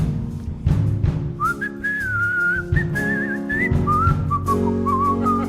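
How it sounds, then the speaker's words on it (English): A man whistles a slow, wavering tune up toward the night sky, the melody carrying steadily and close for several seconds with no talking. "My granddaddy, he used to look up into the heavens and he would whistle."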